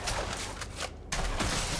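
Loud video game gunshots in a shooter, a dense run of sharp bangs broken by a brief quiet gap before the firing resumes.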